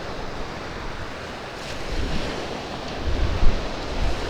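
Small ocean waves break near a moored boat, a continuous washing surf with gentle swells building and a slightly stronger break near the end, mixed with light wind noise on the microphone.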